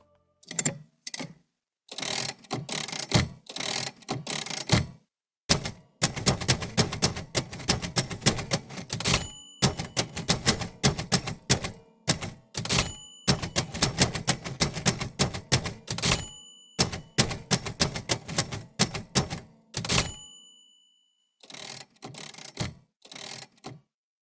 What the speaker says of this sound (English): So that's how you make music with typewriters.